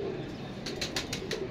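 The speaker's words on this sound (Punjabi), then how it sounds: "ਕਬੂਤਰ ਦਾ ਜੋੜਾ ਬੜਾ ਕਮਾਲ ਲੱਗਾ" Pigeons in a loft flutter their wings in a run of quick, soft flapping bursts near the microphone, with faint cooing beneath a steady background hum.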